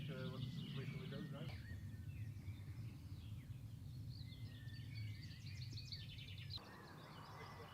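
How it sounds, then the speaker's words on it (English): Small birds chirp faintly in the distance at a quiet World War One cemetery near Ypres, thin tweets scattered through the clip beneath a voice talking over steady outdoor background. "you can hear the birds chirping"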